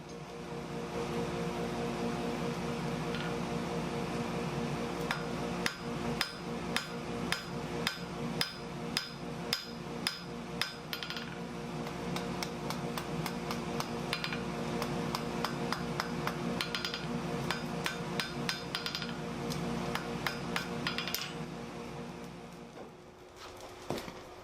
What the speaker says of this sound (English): So I'll go ahead and heat this up and flatten that end down just a bit.